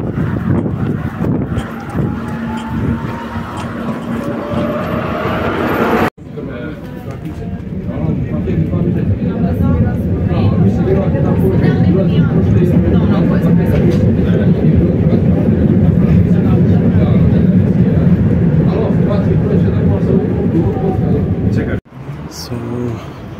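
A city tram rolls along with a loud, steady low rumble and road roar that swells in the middle stretch. Abrupt breaks interrupt the sound twice.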